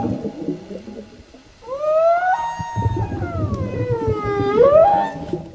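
Humpback whale song recorded underwater during a dive: long, wavering moans that rise and fall in pitch, clear and fairly close, over a low bubbling rush from a diver's regulator.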